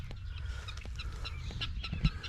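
A guinea fowl hen sitting on a nest calls with brief scratchy cries over faint outdoor background, ending in a sharper, louder squawk near the end.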